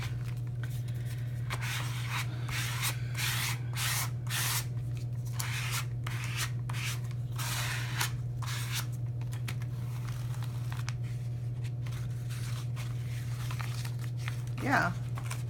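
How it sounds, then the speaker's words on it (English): Dry paint is scraped across a silicone mat in short, rough rasping strokes that come in bursts over a steady low hum, close and fairly quiet. "Now that paint is a little on the dry side, so I'm going to scrape it"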